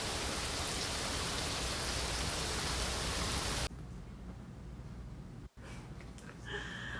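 Heavy rain pours down steadily and loudly as a dense, continuous hiss, then drops to a softer, more distant downpour partway through with a brief cut.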